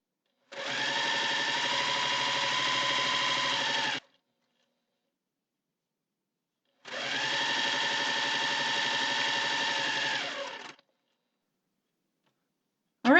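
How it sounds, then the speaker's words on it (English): Sewing machine stitching jelly roll fabric strips for a table runner, running in two steady runs of about three and four seconds separated by silence, with a brief start at the very end, close and clear. "I've just finished sewing this row, all these strips."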